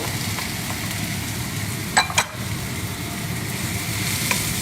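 Chinese sausage frying in a pan with white onion for fried rice, a continuous close hiss with a couple of sharp crackles as the pieces land, no talking.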